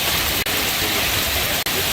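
Steady, dense hiss of rain falling during a severe storm in San Antonio, continuous and fairly loud, briefly cut off twice.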